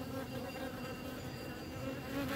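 Honey bees buzzing continuously in an opened divisible hive, a dense, even drone of many insects close by without pauses.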